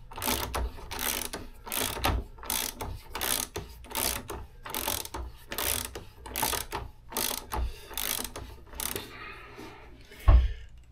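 A ratchet tool clicks while a bicycle wheel axle is removed, loud close bursts of ratcheting repeating in an even rhythm, ending with a sharp knock.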